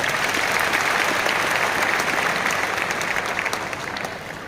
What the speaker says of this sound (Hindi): तो एक बार सभी लोगों के लिए सम्मान में जोरदार तालियां।